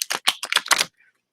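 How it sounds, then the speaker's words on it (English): Quick riffled card shuffle from a tarot-style reading deck: a burst of five or six sharp, papery flutters in rapid succession, close up, then a faint tap as the deck settles. "I'm going to shuffle the deck for her."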